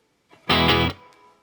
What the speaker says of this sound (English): Let's add reverb.